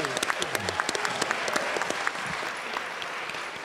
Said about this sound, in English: Let's all give them a round of applause to the teachers.